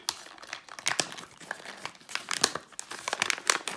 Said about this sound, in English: So we unseal the kit